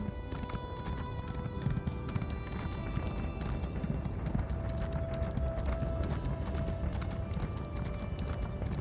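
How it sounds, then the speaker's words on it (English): A horse gallops in Elder Scrolls Online, its hooves clip-clopping in a steady, fast, even rhythm that runs continuously at moderate volume. "Come on, horse, let's go."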